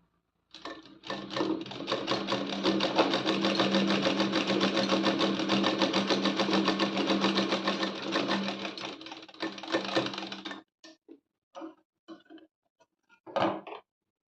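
A sewing machine runs steadily for about ten seconds, stitching around all four sides of a small cloth bow made from leftover fabric, then stops and gives way to a few short clicks and handling knocks.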